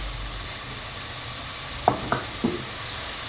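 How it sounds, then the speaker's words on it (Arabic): Chicken fries in oil for a chicken and artichoke tagine, giving a steady, even sizzle with a few soft utensil knocks partway through and no voices. "نخليها مليح، نقليها مليح."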